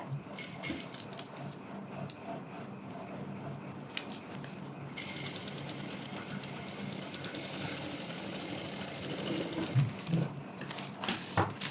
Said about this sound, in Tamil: இப்போ ஸ்டிச் பண்ணிக்கலாம். பேப்பரில் ஸ்டிச் படாமல் பார்த்துக்கோங்க.